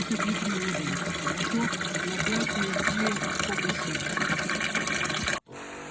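Steady gushing of cold water pouring into a tank for mixing a potassium vineyard spray, continuous and fairly loud, cutting off abruptly near the end.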